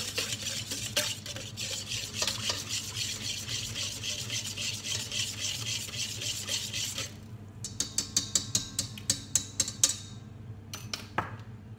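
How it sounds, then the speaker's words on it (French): Baker's yeast is stirred into lukewarm milk in a stand mixer bowl, with a steady close whisking and scraping for several seconds, then a run of quick, light metallic taps against the bowl near the end. "je viens le mettre dans la cuve de mon robot. J'y mets la levure boulangère. Je mélange comme ceci."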